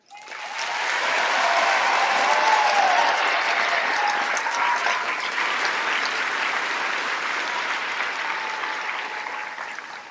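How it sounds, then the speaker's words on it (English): Audience applause at an Air Force training squadron coin and retreat ceremony swells quickly into sustained, loud clapping from a large crowd, holding steady for about ten seconds before easing off. "Ladies and gentlemen, I would like to ask that you give a round of applause to this dedicated team of"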